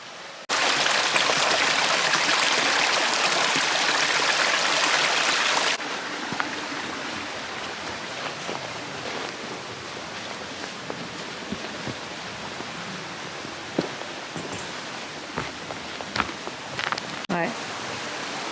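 Steady rain falls outdoors in the Monts d'Arrée, a loud dense hiss at first that settles into softer patter with scattered nearer drips and small knocks.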